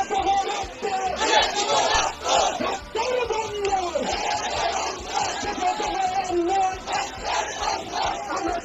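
A large crowd at a Bangladeshi street rally led by Chhatra League and Jubo League chants political slogans in loud, rhythmic, repeated shouts, with yells rising and falling over a continuous roar of voices.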